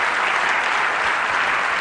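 Dense, steady applause fills the hall at a Juventude Socialista convention, a large crowd clapping loudly and continuously with no voices over it.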